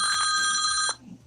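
A telephone bell rings loudly in one sustained burst for nearly a second, then stops, leaving a faint murmur.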